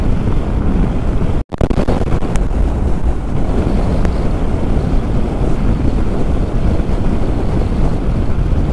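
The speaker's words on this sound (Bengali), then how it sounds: "বিরাট হাওয়া দিচ্ছে।" Strong wind blowing on a mountain road in Ladakh roars steadily into the microphone as a loud, continuous broadband rumble, broken by one brief dropout early on.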